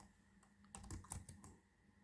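Keyboard keystrokes while editing web page code, a short burst of close, distinct clicks with a few louder taps in the middle over a faint steady hum.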